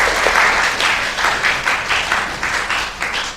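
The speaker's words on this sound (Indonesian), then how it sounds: "Tepuk tangan untuk kita semua." Students in a classroom break into applause, a burst of many hands clapping fairly loudly and close, swelling in rhythmic waves before tapering slightly.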